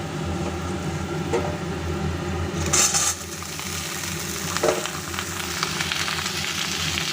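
Cauliflower and potato pieces fry in a wok for a tomato cauliflower curry, with a steady sizzle and occasional clinks and bursts of spattering close by.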